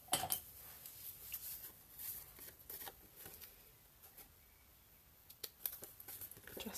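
Scissors snip through card for a handmade birthday card, making a faint close series of crisp, irregular cuts and rustles with short pauses between them.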